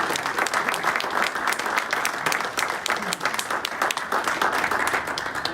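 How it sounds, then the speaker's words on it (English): Steady applause from the audience at a Paul Harris presentation, dense clapping filling the room at an even level throughout, with a few voices faintly underneath. "if we could have a round of applause for these 3 attendees"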